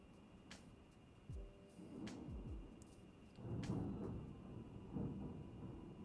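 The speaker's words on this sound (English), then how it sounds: "Can you guys hear that? Thunder." Distant thunder rolls in low, rumbling swells that rise and fade over several seconds behind a steady background hiss, with no voices present.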